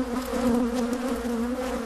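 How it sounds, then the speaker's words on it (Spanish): Honeybees kept by beekeepers in the Jerte valley hum in a steady, dense, continuous drone that sounds close and sustained throughout, with no voices over it. "Si las abejas me atraían,"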